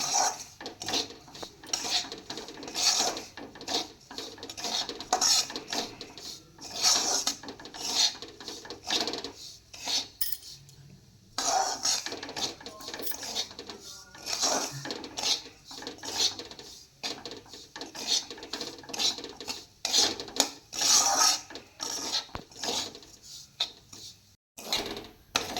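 Semolina roasting in ghee for sooji halwa as a spoon scrapes and stirs it around a pan, a continuous rasping, rubbing sound with frequent knocks against the metal, close and fairly quiet.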